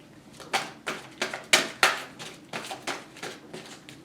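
Tarot cards shuffled by hand, giving a run of crisp, papery flicks and taps in an irregular rhythm, close and fairly quiet, with no talking.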